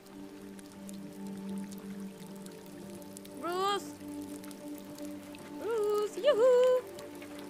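Rain falls in the video game Detroit: Become Human, a constant patter and hiss across the whole stretch. Voices and short tonal sounds rise over it now and then.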